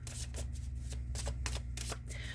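A deck of astrology cards is shuffled close by in a string of brisk, rhythmic riffles and slaps over a low steady hum, with no talking.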